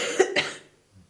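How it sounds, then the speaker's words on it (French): A single short double cough given on request during a doctor's examination, close and fairly quiet, followed by near silence. "Toussez."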